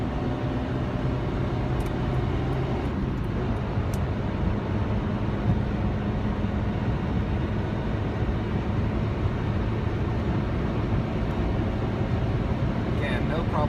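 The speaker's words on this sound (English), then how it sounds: "let me actually go into fourth and do some highway accelerating" A 1996 Honda Civic LX accelerates in fourth gear on a highway, heard from inside the car as a steady, dense engine and road drone that stays loud and even throughout.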